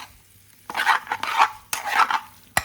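King prawns and potatoes coated in spices are stirred in a pan over gas, giving two bursts of scraping, shuffling stirring with a utensil against the pan and a sharp clink at the end, close and fairly loud, with no talk.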